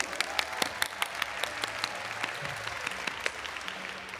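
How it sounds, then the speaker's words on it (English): Applause from an entrance ceremony audience following a Yosakoi dance performance, a steady wash of many clapping hands with sharp individual claps popping out, moderately loud and continuous throughout. "Another round of applause for Yoshakoi,"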